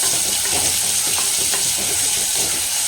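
Tomatoes with onions and ginger-garlic paste sauté in a pan for a village-style potato masala, giving a loud, steady frying hiss up close with soft stirring scrapes underneath.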